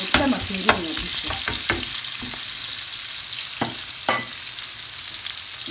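Onions frying in a pot crackle and sizzle loudly, with repeated spatula scrapes and stirs in an uneven rhythm over the first two seconds, then a steady hiss with a few more stirs.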